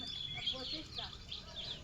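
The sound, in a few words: geese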